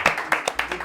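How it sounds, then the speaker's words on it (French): A short burst of hand clapping from a small group applauding the technical crew at a live show, sharp uneven claps close by with a voice over them. "on les applaudit l'équipe technique"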